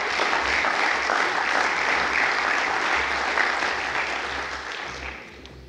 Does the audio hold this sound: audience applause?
yes